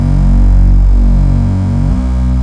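A synthesizer set to a plain sawtooth wave holds a loud, buzzy sustained tone with a slight warble, then shifts to a new pitch near the end, played alone with no voices.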